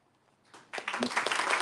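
Applause at an award ceremony: near-silence, then a crowd bursts into loud, sustained clapping.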